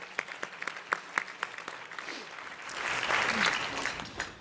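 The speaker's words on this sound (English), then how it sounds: "let's give them a round of applause and recognize them." Scattered claps from a few people at an installation banquet start things off, then a broader burst of audience applause swells and holds near the end, fairly quiet overall.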